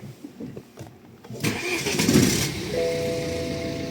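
A BMW F20 with an N47 diesel engine cranks briefly, then fires and settles into a steady idle. The start is close and clear.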